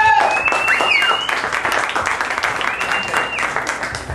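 A concert audience applauds loudly to welcome the band, sustained clapping with a few whistles cutting through and faint voices beneath, gradually thinning toward the end.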